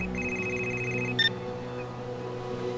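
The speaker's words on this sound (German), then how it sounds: "Telefon!" Telephone ringing in the point-and-click adventure game Gray Matter, an electronic tone held steadily for about a second with a brief higher chirp after it, over a constant low musical hum.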